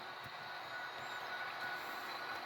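An HO scale model Amtrak train runs along a layout, giving a steady faint rolling hum with thin squealing wheel tones throughout and no talking.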